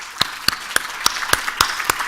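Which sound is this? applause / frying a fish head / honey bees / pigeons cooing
applause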